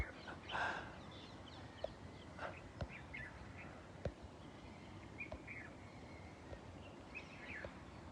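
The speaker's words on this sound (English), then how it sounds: "It's interesting just to watch and to listen to the birds" Birds call outdoors, faint and somewhat distant, with scattered chirps and a few short whistled notes over a steady low background rumble.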